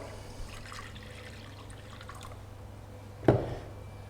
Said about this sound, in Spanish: Voy a poner aquí un poquito de agua.